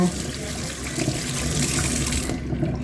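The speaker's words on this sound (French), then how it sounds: "On n'oublie pas de se laver les mains avec de l'eau" Tap water pours steadily into a sink while hands are washed before cooking, a dense rushing splash that runs for over two seconds and then stops abruptly.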